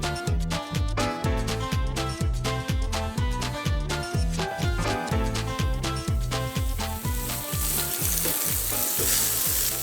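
Burger patties sizzle in hot olive oil in a pan, a steady frying hiss that grows brighter toward the end beneath loud rhythmic music.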